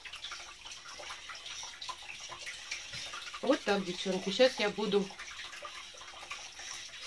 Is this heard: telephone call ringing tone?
no